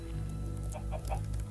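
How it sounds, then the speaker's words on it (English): A chicken in the Minecraft Nether clucks a few short, soft times over a steady low game background hum, with no talk. "There's a chicken here."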